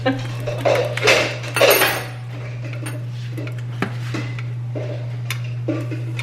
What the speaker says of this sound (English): George is trying to help Ambrose put dishes away, and it's not going well.